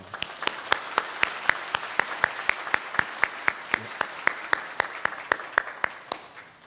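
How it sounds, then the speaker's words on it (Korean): A church congregation claps in a steady unison rhythm to welcome a children's ministry pastor, about two dozen even beats at moderate distance, evenly spaced and continuing throughout. "인사할 때 박수로 격려해 주시기 바랍니다."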